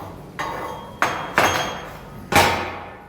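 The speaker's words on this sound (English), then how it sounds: "Lightly scrape this slag off. Should come off nice and neat." Slag is chipped and scraped off a 3/16 fillet weld run with 052 flux-core wire on steel plates: four sharp metallic knocks, each with a ringing scrape, spaced unevenly and close up, with no talk.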